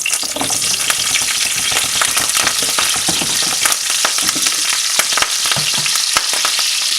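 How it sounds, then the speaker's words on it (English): Brussels sprouts fry hard in bacon grease in a pan, a loud, steady, dense sizzle with scattered crackles and pops throughout, no voices. "Now we're going to put those in the pan on top of the bacon grease that we have right here"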